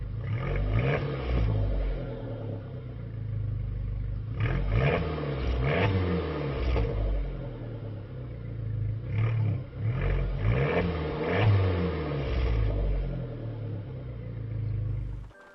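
A Fiat 500 Abarth with its sport exhaust, a deep engine rumble that swells in several revving surges over a steady idle, close and loud throughout with no voices.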